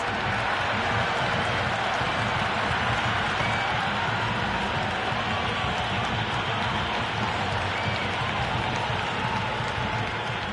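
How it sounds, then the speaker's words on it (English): A stadium crowd in the cricket video game Cricket 26 keeps up a loud, steady roar and cheer, dense and unbroken from start to finish, with no voices standing out above it. "It's evident and ever so audible that the crowd is at near bursting point at today's play."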